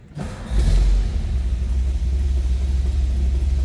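The 312 V8 engine of a 1957 Ford Fairlane Club Victoria fires up and settles into a deep, steady idle rumble, loud and close, with no voices.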